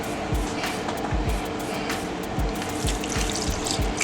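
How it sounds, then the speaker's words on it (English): Beef broth poured over three ham hocks in a pressure cooker, a steady gurgling splash of liquid running continuously at close range with soft irregular glugs. "we're going to cover them with beef broth."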